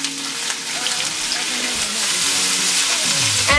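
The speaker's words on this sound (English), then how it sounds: "And we're going to saute this." Chopped vegetables with shrimp and crabmeat hit a hot pan for a Jamaican curry, giving a loud, close, continuous sizzle with brief tossing and scraping sounds near the end.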